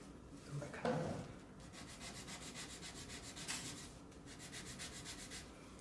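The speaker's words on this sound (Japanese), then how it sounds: "だからそういう時はちょっと紙やすりで削ります" Sandpaper rubs against the tip of a wooden bar for a circular lyre xylophone, giving a close, steady scraping in short repeated strokes, with no speech.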